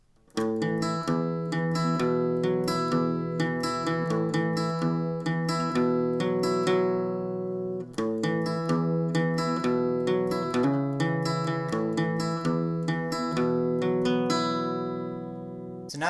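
Acoustic guitar strums the chorus chords of a song in a steady, ringing rhythm that carries continuously, with a brief break partway through, and then fades at the end.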